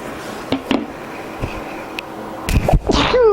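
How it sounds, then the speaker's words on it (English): A person with bad allergies sneezes into a covered microphone while unboxing a doll, a short muffled burst among quiet handling noises and small clicks. "I gotta sneeze, forgive me if I do, I have really bad allergies"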